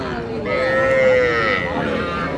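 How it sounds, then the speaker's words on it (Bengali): Crossbreed calves moo at a busy cattle market, one long drawn-out call rising and falling over a steady crowd murmur, fairly close and loud. "ছোটো ছোটো কিন্তু ক্রোসের বাচ্চা কালেকশন করে"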